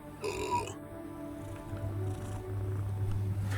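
A cat purrs close to a microphone with a low, steady rumble that swells louder toward the end. It is preceded by a brief higher-pitched feline sound, and there is no speech.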